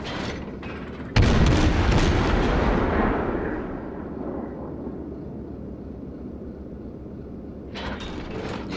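Warship main guns fire in the World of Warships naval combat game, one heavy booming salvo followed by a long rumbling decay, then a fainter mechanical rise near the end, with no voices.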